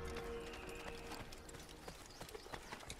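Horse hooves clop steadily in the video game Assassin's Creed, a quiet rhythmic clip-clop under a soft game ambience with a faint whinny-like tone early on.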